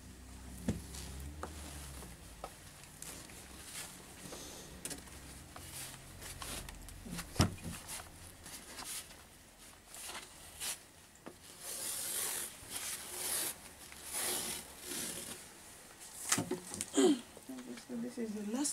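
Scissors cutting a foam pattern for an Isi Agu off-shoulder blouse, quiet rubbing and snipping scrapes coming in irregular bursts, close by and faint, with a voice talking now and then over them.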